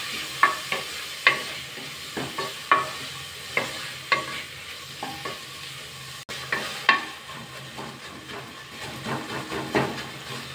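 Chopped tomato sautéing in a hot pan, a continuous sizzle and hiss punctuated by regular sharp scrapes and clacks of a spoon stirring, close and alone without speech.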